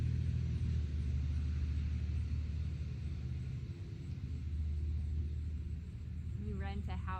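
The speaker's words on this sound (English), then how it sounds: "There is a hay bale truck pulling into my driveway" A heavy hay bale truck pulls into a farm driveway, its deep engine rumble droning steadily and close throughout, with a brief higher mechanical squeal near the end.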